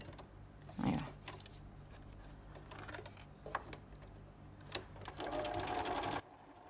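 A sewing machine stitching a quilt block runs in short bursts of rapid mechanical clatter, close and fairly soft, with pauses and small handling noises between runs and a longer steady stretch near the end.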